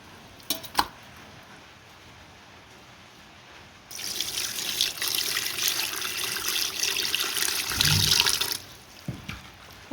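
Tap water runs steadily while rinsing in a home kitchen during cooking, starting after a few quiet seconds with a few faint clinks before, then stopping abruptly.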